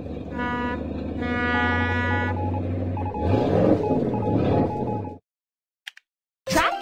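A ship horn in a mobile vehicle game gives sustained, layered tonal blasts with a deep fundamental, followed by a sweeping warbling tone. It cuts to near silence before a brief burst returns.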